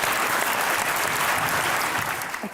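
An audience claps after a recited poem in a broad, loud burst of applause that holds steady and then tapers off at the end.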